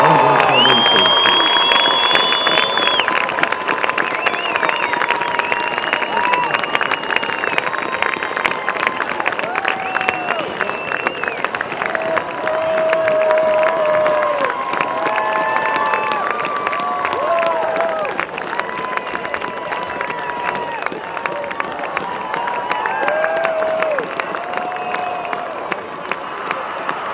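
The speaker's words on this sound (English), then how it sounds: "Please join us in honoring Andrew with a warm round of applause." Crowd applause and cheering at a high school football game honoring a person, a sustained wash of clapping and shouts lasting nearly half a minute, with loudspeaker-like tones and voices mixed throughout.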